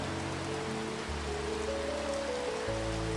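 Gentle rain falls in a steady, soft patter of drops on a surface, even and continuous throughout, with a faint low tone sitting underneath.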